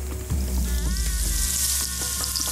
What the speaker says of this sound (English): A few curry leaves going in.